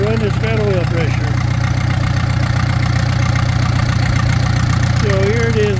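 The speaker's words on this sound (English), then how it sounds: "it's letting it run, it's got oil pressure" A Palmer M60 marine engine runs on a bench test, idling with a steady loud mechanical chug throughout and brief voice-like tones near the start and end.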